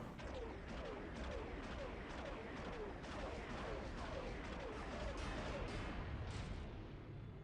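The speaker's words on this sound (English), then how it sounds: "I can already hear them firing at me." Enemy starfighters in Star Wars Galaxies fire laser cannons in a steady, rapid stream of overlapping shots, heard as continuous dense fire at a fairly quiet level with no voices.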